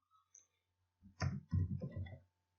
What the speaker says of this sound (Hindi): इस पे मैं क्लिक करता हूँ